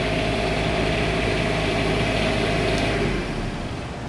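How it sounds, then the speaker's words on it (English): Generator engine running on a county decontamination vehicle: a steady, loud low-pitched drone with a constant hum throughout, ending with a slight drop in level. "the generator is on"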